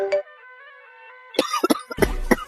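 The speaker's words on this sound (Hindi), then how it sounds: "हाँ हाँ, खांसो खांसो, खांसी तो आएगी ना।" A few harsh bursts of coughing in quick succession, close and fairly loud, after a brief faint vocal sound.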